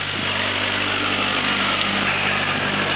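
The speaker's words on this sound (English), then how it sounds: "So I should start up my tractor and drive to there" A tractor engine runs at a steady idle close by, a continuous mechanical hum with a droning low rumble and no breaks throughout.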